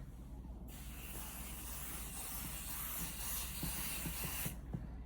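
A continuous aerosol spray hisses onto quilt fabric for about four seconds, starting and stopping abruptly, close by with faint soft movement underneath.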